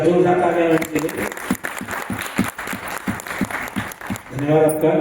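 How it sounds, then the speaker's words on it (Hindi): Audience at an International Women's Day event in Pithoragarh applauding during a memento presentation, scattered clapping of moderate loudness between stretches of speech at the start and end. "एक बार जोरदार तालियां के लिए"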